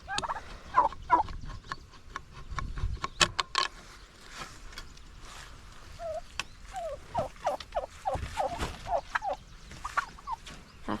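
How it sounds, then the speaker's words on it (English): Royal Palm turkeys gobbling repeatedly at close range during morning farm chores, with rapid bursts of gobbles and scattered clucks over faint background noise. "these are the turkeys"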